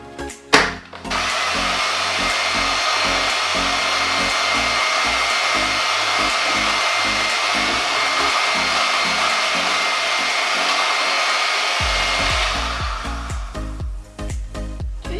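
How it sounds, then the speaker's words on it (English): An electric mixing machine blends a lightening and toning body lotion with a loud, steady high whine that runs almost without a break. It cuts off near the end and gives way to low clatter and handling noise. "I decided to go in with my mixing machine here, and it's really worked well"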